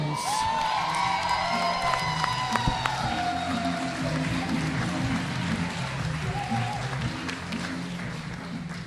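A crowd at the 9th Annual Charleston Urban Works Urbanite Awards cheers, whoops and applauds loudly for an award winner, a dense wash of clapping with shouts rising over it.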